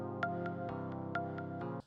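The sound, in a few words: soft pluck synth sound in Cakewalk by BandLab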